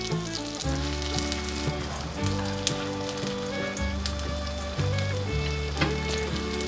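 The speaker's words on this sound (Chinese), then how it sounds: "把小馅饼放进锅内煎" Small cabbage and vegetable pies made from dumpling wrappers pan-fry in a little oil in a nonstick skillet. A steady hiss of frying runs beneath prominent melodic background music, and no one speaks.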